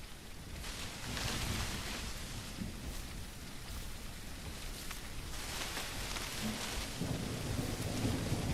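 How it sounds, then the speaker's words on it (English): Steady heavy video game rainfall hisses evenly throughout, with a low rumble underneath, like a downpour heard from close by. "soon as I start playing, it starts raining."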